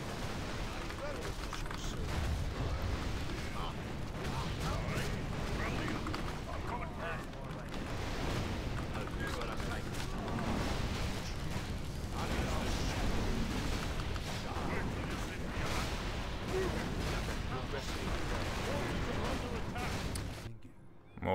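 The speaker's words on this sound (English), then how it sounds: "Mortars." Mortar teams in Warcraft III: Lordaeron The Aftermath fire in a dense, continuous barrage of booming artillery blasts and crackling explosions, loud and sustained amid battle noise.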